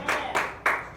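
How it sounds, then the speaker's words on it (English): Congregation hand clapping in a church service, three distinct claps spaced about a third of a second apart, each with a short room decay, close and clear without talk. "Give the Lord a hand clap."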